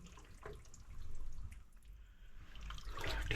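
Receding floodwater drips and trickles inside a dark passage near a mosque in Indonesia, a steady close wash of running water with scattered drips and no one talking.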